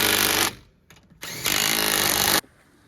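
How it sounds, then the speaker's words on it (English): Wheels go back onto a Honda Pioneer 700 with a power tool, two loud close bursts of buzzing whir separated by a short quieter pause, then it stops. "I'm going to reattach your wheels and torque them."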